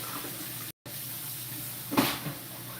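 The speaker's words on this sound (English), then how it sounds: "So rinsing off these potatoes first in the water, draining the water" Tap water runs steadily into a pot while potatoes are rinsed and drained, a continuous close hiss that cuts out for a moment and then returns with a louder splash near the end.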